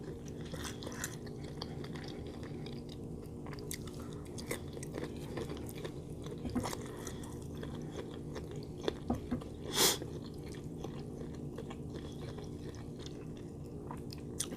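Close-up chewing of large Costco shrimp in sausage alfredo, with soft wet mouth sounds and occasional crunchier bites over a steady background hum, including a sharper bite near the ten-second mark.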